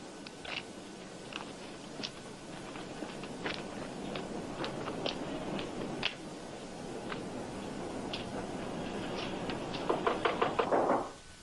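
Knocking on a door in an old Highway Patrol television episode, scattered sharp raps with faint ticking underneath, building to a rapid flurry of knocks near the end.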